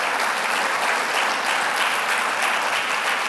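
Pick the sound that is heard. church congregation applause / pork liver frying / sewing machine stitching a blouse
church congregation applause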